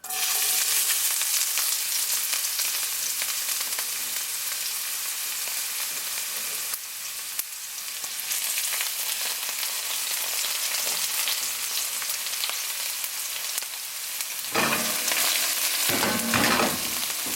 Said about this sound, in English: So you put some oil in the pot. This is on medium-low heat. I'm going to add my onions and tomatoes.